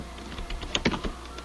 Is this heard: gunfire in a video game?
no